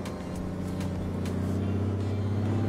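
Noisy truck engine drones loudly and continuously at close range, with a few brief clanks over the steady rumble.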